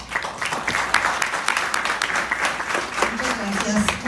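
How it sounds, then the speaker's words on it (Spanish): Applause from an audience at a university book presentation, steady, moderately loud clapping from a crowd that continues throughout with no break. "Por favor, un fuerte aplauso."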